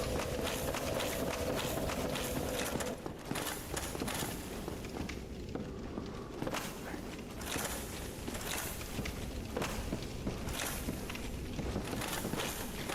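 Running footsteps of a player character in Dark Souls Remastered, a rapid steady patter of steps over dense game ambience and music, continuous and fairly loud throughout.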